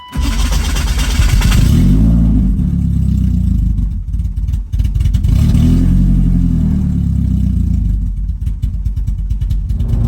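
A BMW E36 318i with the M42 four-cylinder engine cranks and fires up, then idles and revs in loud, close bursts with rising and falling engine pitch, heard alone without talk.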